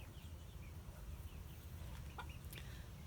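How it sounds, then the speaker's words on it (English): A mottled Cochin rooster and hens in a coop give a few soft, scattered clucks over a low steady background hum, faint and somewhat distant. "That's Enigma there, the rooster. He's a modded Cochin"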